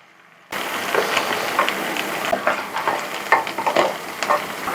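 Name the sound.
fish head frying with spices in a pan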